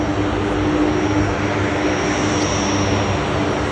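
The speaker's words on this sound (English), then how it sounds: "Fat Albert, the supply and carrier plane for the Blue Wing." Loud, steady roar of the four propeller engines of a C-130 Hercules transport plane, the Blue Angels support aircraft Fat Albert, at the Seafair air show in Seattle, heard close and unbroken with no voices.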